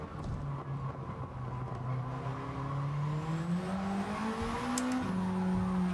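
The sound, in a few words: race car tyres spinning and squealing in Gran Turismo 7 video game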